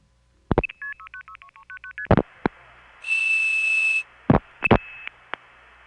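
Multi-frequency telephone signalling on an early-1970s phone line: a quick run of short, evenly stepped two-tone beeps, then a steady high whistle tone, broken by sharp clicks and thumps, loud and clear with no talking.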